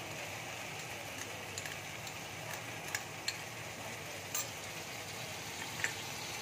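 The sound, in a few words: spice masala with yogurt sautéing in pan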